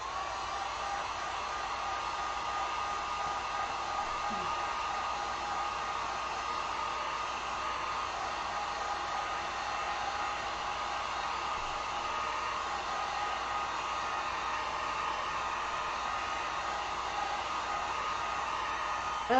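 A heat tool blows a steady, even whooshing roar as it dries acrylic paint on a pineapple sunglasses sign, holding constant throughout without pauses.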